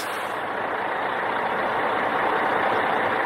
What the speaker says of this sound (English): The engine's going! Terrific!